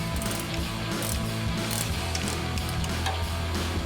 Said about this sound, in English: Now we've got a 19mm ratchet wrench and a 5/16 wrench to hold our strut stud.